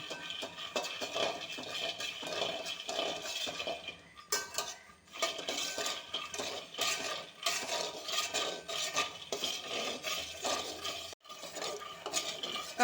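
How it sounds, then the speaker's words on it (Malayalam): Peanuts being stirred and roasted in a hot pan, giving a continuous close scraping and rattling of nuts against the metal with clinks, steady throughout with a brief dip mid-way. "ചൂടായ ചട്ടിയിലേക്ക് കപ്പലണ്ടി ഇട്ട് കൊടുത്ത് നല്ലതുപോലെ ഇങ്ങനെ ഇളക്കിക്കൊണ്ട് ഇങ്ങനെ ഇളക്കിക്കൊണ്ടിരിക്കണം"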